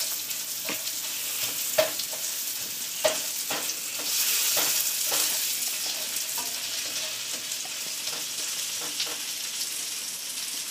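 A chili and beetroot meat mixture sautés over high heat, giving a constant loud sizzle broken by several sharp clacks of a utensil stirring the pan, all close up with no speech.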